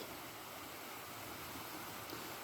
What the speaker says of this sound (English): you don't get the noise of that waterfall so much down here